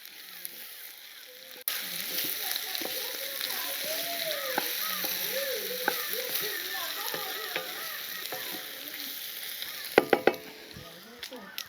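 Cauliflower curry for gunth gobi sizzles in a pan while being stirred, a steady frying hiss with soft scraping, then a few sharp clinks of the utensil near the end.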